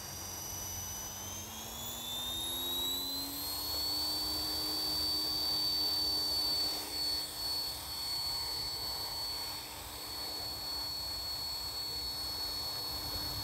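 An Align T-Rex 450 LP Dominator RC helicopter flies outdoors on a cold morning, its steady high-pitched turbine-like whine rising in pitch early on and then holding loud and continuous, with faint wind noise.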